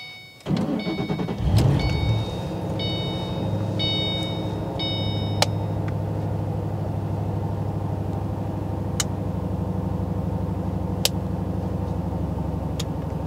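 A 2008 Ford Mustang GT500 in orange starts up with a short burst, then settles into a steady, deep idle rumble that runs throughout, with a few faint clicks and a warning chime over it.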